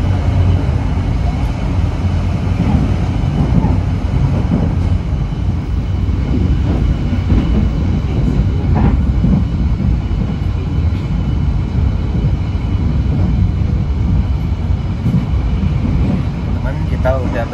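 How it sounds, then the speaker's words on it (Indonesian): Inside the moving Pasundan passenger train on the Bandung to Surabaya line, a dense, steady rumble of wheels and carriage clatter fills the space, loud and continuous with faint voices underneath. "Kita udah berada di dalam kereta api Pasundan dan perjalanan kita baru berjalan sekitar 7 menitan."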